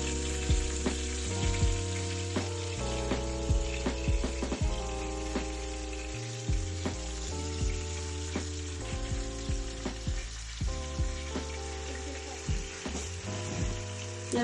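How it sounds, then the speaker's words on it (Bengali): Boneless chicken breast pieces lightly frying in a pan for a gravy, a steady close sizzle with frequent sharp clicks and taps of stirring utensils against the pan throughout. "এভাবে আমি হালকা ফ্রাই করে নেব চিকেন।"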